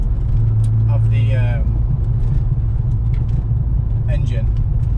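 A car's engine exhaust, heard from outside, gives a steady low rumble throughout, with brief higher voice-like sounds and faint jingling over it.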